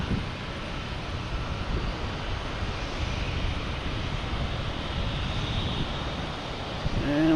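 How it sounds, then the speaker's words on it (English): A JetBlue airliner taxiing out toward runway 22 at Boston Logan gives a steady, continuous jet engine rumble and whine that holds level throughout, with a brief louder bump near the end. "We got a JetBlue heading out to 22 right."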